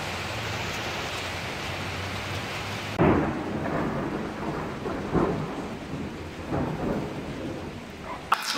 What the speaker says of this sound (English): Do we have a lot of rain in Armenia?